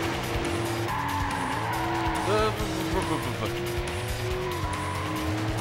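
Car tires squealing and skidding under hard braking and turning in the NFS Hot Pursuit 2 racing game, a steady engine drone with a brief sharp squeal and game music underneath.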